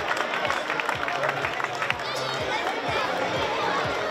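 Loud crowd applause and cheering for athletes at a popular running race, with steady rhythmic clapping running throughout.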